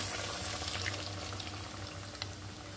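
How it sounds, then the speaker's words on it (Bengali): Egg and banana pitha fry in oil with a soft, even sizzle at low volume, alongside a low steady hum and an occasional faint tap. "এইভাবে সবগুলো পিঠাকে আমি ভেজে নিব"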